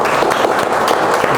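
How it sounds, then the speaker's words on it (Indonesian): Audience applause at an Indonesian talk show episode, a dense steady wash of many hands clapping at fairly loud level throughout, with no voices standing out. "Sekali lagi tepuk tangan untuk Pak Wahyu."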